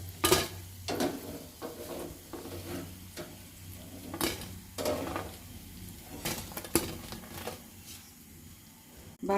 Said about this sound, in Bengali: বাকিগুলো আমি একইভাবে ভেজে নিচ্ছি।